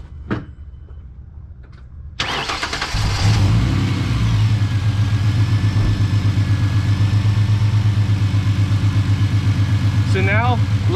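A 2008 Ford Mustang 4.0 V6 with an idle chop mod, running through a long hose, fires up after a quiet start and settles into a loud, close, steady rhythmic idle with a pulsing lope.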